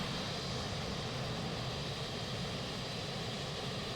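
Panavia Tornado jet taxiing in MSFS 2024, a constant even engine roar with a broad rush of noise that never changes over the whole stretch, heard alone with no voices.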